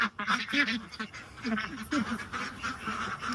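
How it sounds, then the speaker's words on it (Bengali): An excited flock of ducks quacks and honks in rapid, overlapping bursts as afternoon feeding approaches, close and fairly loud with a voice briefly audible. "হাঁসের মাথা খারাপ হয়ে গেছে মানে বিকালের খাওয়া খাবে ওরা"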